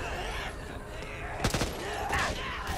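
A light machine gun firing in the video game Back 4 Blood, short rapid bursts of gunfire over busy game noise, with a sharp cluster of shots in the middle.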